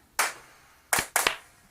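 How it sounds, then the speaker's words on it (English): Old tape drum clap samples in a music production: a single crisp clap, a pause, then a quick double clap, dry and close. "these old tape drum claps that I found, and then just added the little double clap in there"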